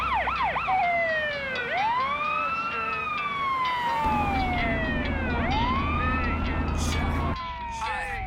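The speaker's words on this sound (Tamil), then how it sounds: "ஆம்புலன்ஸ் வருதுடா, அப்படியே கொஞ்சம் ஓரம் வந்துரு." An ambulance siren wails and yelps as it passes on the road, sweeping up and down in repeated rising and falling tones, loud and near, with traffic rumble and a voice talking underneath.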